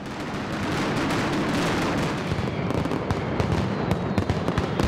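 Mascletà firecracker barrage at the Falles festival in Valencia, more than 3,500 boxes of bangers set off: a dense, continuous roar of rapid-fire explosions that stays loud throughout, with sharper cracks standing out near the end.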